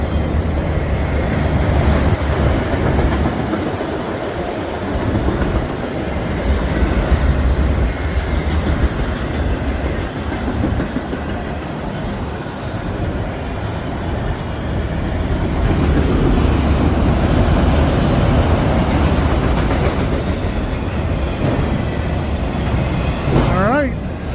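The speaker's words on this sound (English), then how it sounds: "See it on this one, just a single locomotive on it." A long train pulled by a single locomotive rolls past, a steady loud rumble with faint wheel clatter running throughout, and a brief high squeal near the end.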